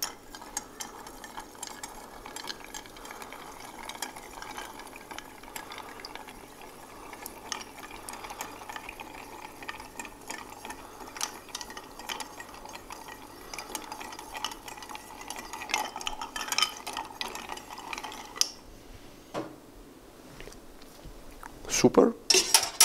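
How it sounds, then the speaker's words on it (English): A Red Hook cocktail with Angostura bitters is gently stirred in a Venice cocktail bar, faint soft clinking and swirling against a quiet, noisy room background, with a brief louder clatter near the end. "A gentle stir."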